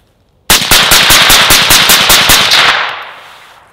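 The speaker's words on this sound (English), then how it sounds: "We're gonna go ahead and we're gonna fire 10 more rounds" Ten rapid suppressed gunshots from a rifle fitted with a Surefire SOCOM RC2 suppressor, loud and evenly spaced over about two seconds, ending in a fading echo and then quiet.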